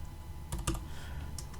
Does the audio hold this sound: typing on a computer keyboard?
yes